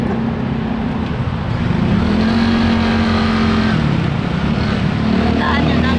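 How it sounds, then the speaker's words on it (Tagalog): A modern tuk-tuk engine drones loud and close on a Bangkok street at night, its low hum rising and falling steadily throughout with a busy background wash. "Tuk-tuk, modern tuk-tuk nila."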